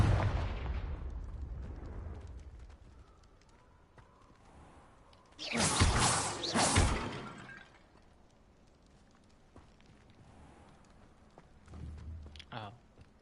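The Confringo fire-blast curse is cast in the Hogwarts Legacy video game. A loud crackling burst of explosive impact stands out in the middle, set against low rumbling game ambience, with a smaller sharp hit near the end.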